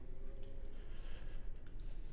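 Quiet keystrokes on a computer keyboard come in a quick, uneven run of light clicks over a low steady hum.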